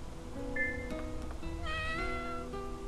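Cat meow move in the video game Gravity Rush 2: a few soft, cartoonish meows rise and fall over steady game background noise, with no talk.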